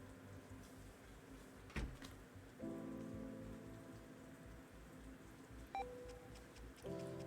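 Steady rain falling outside a hospital room in the RPG Maker MV game An Ethurian Tale Fallen Star, a continuous soft patter under low ambient tones, with a sharp knock near the start and a few brief tonal blips.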